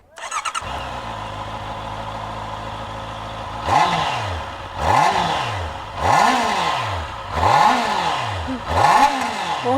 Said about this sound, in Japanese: 4気筒のゴリゴリサウンドがとってもいい音です。